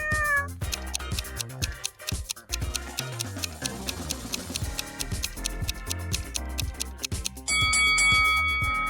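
A house cat meows among busy background music with chiming, bell-like effects, the cries short and mixed into the steady musical bed.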